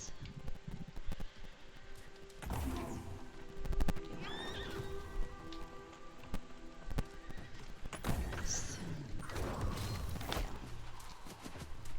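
In the game New World, a horse neighs and whinnies while its hooves clip-clop, heard up close over a busy game soundscape.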